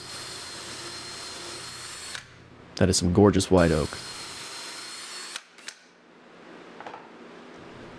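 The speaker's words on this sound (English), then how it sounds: "I mark the hole and drill." A power drill bores a marked hole in white oak, one short burst where the motor whines up and back down. A voice talks before and after it, with quiet shop background.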